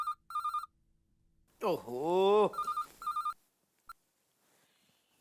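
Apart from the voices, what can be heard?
phone ringing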